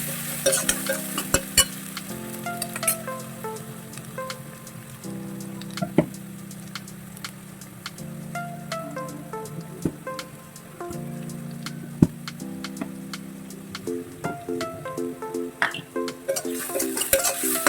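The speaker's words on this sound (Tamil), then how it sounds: "நல்லா வதக்கி எடுத்துக்கிறேன் நான்." Tomatoes and onions sauté in a pan for chana masala: a continuous close sizzle with repeated scraping stirs and sharp spatula taps, and a low steady hum underneath.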